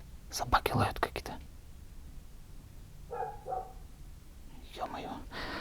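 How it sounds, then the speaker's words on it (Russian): Dogs barking somewhere in the distance outside a building at night, a few short bursts near the start and again toward the end, with faint whispered talk in between. "Собаки лают какие-то."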